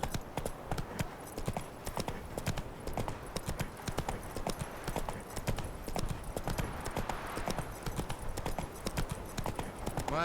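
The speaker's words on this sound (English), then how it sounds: "Whoa there, Roach" Horse galloping in The Witcher 3 video game, hooves beating a fast, loud, regular clip-clop rhythm close by throughout, with a brief voice over it near the end.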